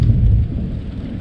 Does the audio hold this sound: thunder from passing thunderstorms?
yes